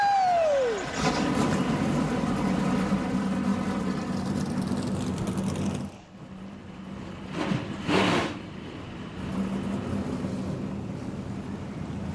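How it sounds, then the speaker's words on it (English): NASCAR Craftsman Truck Series trucks firing up at the Milwaukee Mile, a broad, steady engine roar heard from a distance that briefly dips around the middle before swelling again, with crowd noise mixed in. "Drivers, start your engines."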